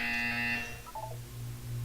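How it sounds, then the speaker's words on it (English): A harsh electronic buzzer in the video game Portal 2 blares for about half a second, then fades into a low mechanical hum with faint tonal blips. "When you hear the buzzer, look up at the ceiling"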